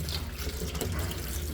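Cold water runs from a tap in a steady, close rushing and splashing stream with no pauses and no voices.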